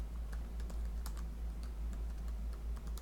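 Typing on a computer keyboard: quick, light key clicks in an uneven run close by, over a steady low hum.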